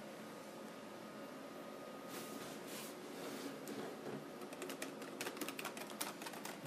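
Keys on a Videonics TM 3000 character generator keyboard are pressed, at first scattered, then in a quicker run of sharp taps toward the end, over a steady background hiss.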